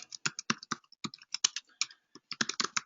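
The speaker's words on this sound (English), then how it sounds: "you can simply type in here" Typing on a computer keyboard, a burst of quick, irregular key clicks at close range with brief pauses between clusters of keystrokes, no talking.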